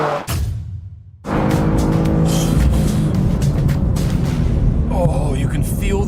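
A BMW accelerates hard in a drag race, a sudden loud engine roar that starts after a short lull and holds steady and close, with an excited voice talking over it.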